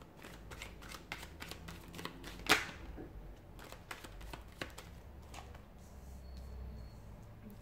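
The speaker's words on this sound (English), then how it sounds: "give the cards a shuffle and begin." Tarot cards shuffled by hand, giving quiet, close, crisp riffling and tapping in irregular bursts, with one sharper snap partway through.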